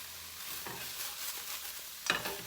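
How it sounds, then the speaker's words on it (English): Broccoli stir-frying in a hot pan, a soft steady sizzle with occasional stirring scrapes and a brief louder clatter near the end, close by with no talking. "I'm going to add the broccoli, and we're going to stir fry it"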